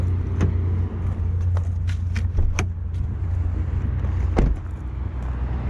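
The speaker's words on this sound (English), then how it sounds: "we're gonna pop the trunk" A 2015 Toyota Camry trunk is popped open amid a handful of sharp clicks and clunks over a steady low background hum, with no talking.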